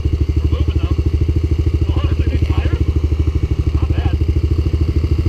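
A Bashan Brozz 250 Chinese dual sport motorcycle rides off road through deep ground, its single-cylinder engine thumping in a steady, loud, rapid pulse with occasional clatter and revving swells, close to the rider.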